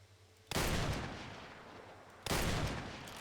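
Two loud, booming blasts from a 4-gauge shotgun in the game Fallout 4, each a sharp crack with a long rumbling decay, spaced about two seconds apart, with no voices.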